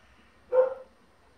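A single short dog bark rings out at moderate distance in a quiet indoor room, one brief burst with nothing before or after it.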